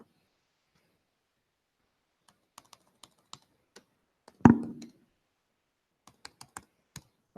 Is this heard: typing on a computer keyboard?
yes